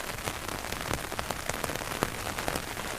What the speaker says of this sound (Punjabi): ਮੀਂਹ ਹੋਰ ਤੇਜ਼ ਹੋ ਗਿਆ ਏ